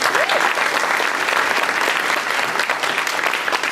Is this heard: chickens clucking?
no